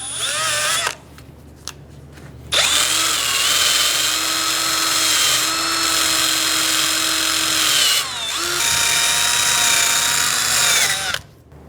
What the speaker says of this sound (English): Using a wire wheel, go around and clean the flange and where the gasket will sit.